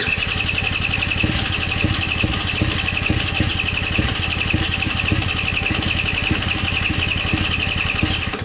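The engine of a three-wheeled scooter sputters in a steady, fast popping rhythm, close and constant throughout, with a rough mechanical drone underneath and no speech.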